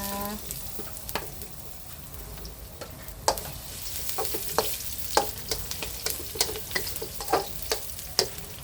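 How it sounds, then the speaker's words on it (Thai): Garlic and vegetables stir-frying in a hot pan with chicken, baby corn and broccoli: a continuous sizzle punctuated by sharp, repeated spatula clicks that grow busier toward the end. "กระเทียมลงค่ะผัดผักนะคะ"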